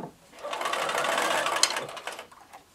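A sewing machine stitches a quilt block near the seam intersection, running steadily for about two seconds with a close, even mechanical whir before it slows and stops.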